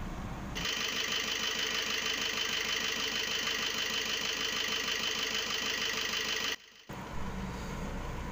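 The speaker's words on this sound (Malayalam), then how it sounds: "അതിനുശേഷം ഒന്ന് നമുക്ക് വണ്ടി സ്റ്റാർട്ട് ചെയ്ത് നോക്കാം." A car engine, being checked after air filter maintenance, starts and settles into a steady, even idle with a regular mechanical rhythm, briefly cut out near the end before running again.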